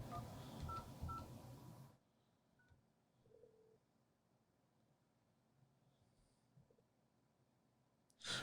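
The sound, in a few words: DTMF keypad dialing tones on a 3CX desk phone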